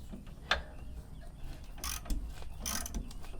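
A ratchet wrench works underneath a vehicle, giving a few close bursts of rapid mechanical clicking separated by short pauses in an otherwise quiet space.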